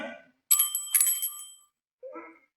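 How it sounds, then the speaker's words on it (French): A small bell chimes twice in quick succession, bright and ringing, during a Christmas story for children, with brief muffled voices before and after. "quand la cloche résonne, c'est que le conte fredonne"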